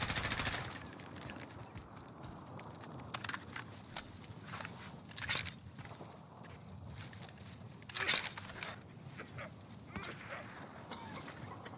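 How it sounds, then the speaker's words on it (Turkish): Rapid bursts of video game gunfire crackle in scattered volleys, with a couple of louder clusters standing out against a steady, noisy game background and no talking. "Abi vallahi yani şu an sıkıyor bana"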